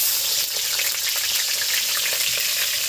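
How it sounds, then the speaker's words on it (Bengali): Snake gourd slices fry in hot oil, giving a loud, dense, steady sizzle with fine crackling spatters and no speech. "এবার আমি এই চিচিঙিগুলো ভেজে নেব"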